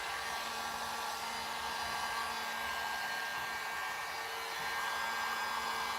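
A heat gun blows steadily while shrinking and tightening wrinkled covering material, a continuous even rushing hiss held at close range with no talk over it.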